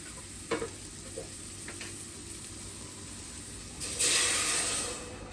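Oil sizzling in a pan for a bouzellouf (sheep's head) sauce, a steady hiss with a couple of small pops, swelling into a louder, brighter sizzle near the end as something is added.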